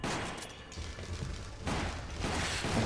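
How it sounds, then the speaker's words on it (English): Grenade blast and gunfire in the Resident Evil Umbrella Chronicles shooter game, a dense, loud roar of detonation and rapid shots that swells again midway, with no voices over it. "I just threw a grenade."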